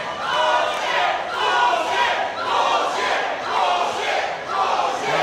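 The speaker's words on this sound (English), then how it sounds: "The crowd rejecting that." Loud wrestling crowd at a live show in Miami, Florida, roaring in sustained, swelling waves of disapproval after an announcement, continuous mass voices with no single speaker standing out.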